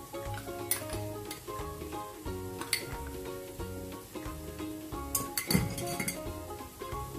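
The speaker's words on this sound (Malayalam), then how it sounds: "നമുക്ക് നന്നായിട്ട് ഇളക്കാം നല്ലായിട്ട് ഇളക്കി മസാലയൊക്കെ യോജിപ്പിച്ചു" A spoon clinks against a bowl while spices are stirred into dough for fenugreek-leaf chapati, quiet irregular scraping and tapping close by with no talking.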